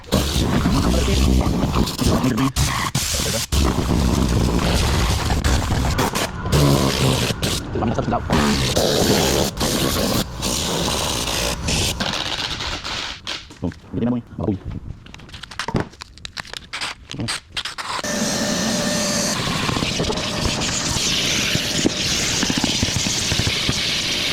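A compressed air nozzle blasts loose debris out from under the seats of a car interior during detailing, a steady loud roaring hiss with brief breaks and crinkling bits, continuing for the whole stretch.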